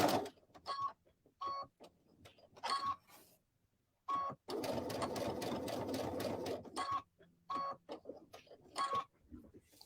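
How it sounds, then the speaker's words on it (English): A home sewing machine stitches around a marked line on a zipper pocket in short repeated bursts, with one longer steady run in the middle, close and clear. "I am going to stitch on that line. I'm going to go all the way around it."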